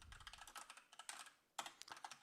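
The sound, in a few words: typing on a computer keyboard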